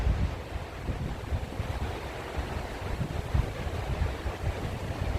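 Steady rushing water flows past a completed mill in a summer park, a continuous broadband wash with some wind buffeting on the microphone, no talking.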